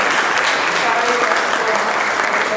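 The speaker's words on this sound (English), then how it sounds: "Please give him a round of applause" A lecture audience applauds a speaker on nature-based building, a dense, steady wash of many hands clapping that fills the room throughout, loud and close with no pauses.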